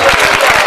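Brief burst of an audience clapping together in a church service, a dense, steady patter of many hands with no voices over it.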